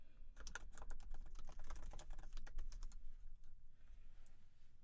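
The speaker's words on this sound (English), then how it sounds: "and then type in my password" Someone types a password on a Mac keyboard: a quick, close run of light key clicks lasting a few seconds, then a quiet pause with a last faint tap.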